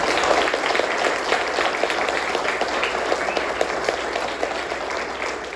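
Attendees in a crowded room applaud the candidates at the end of a county superintendent candidate forum. The clapping is loud and dense, holding steady before easing slightly at the end.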